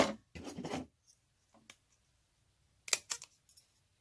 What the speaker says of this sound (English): I'm just going to take the scissors and chop it this way and this way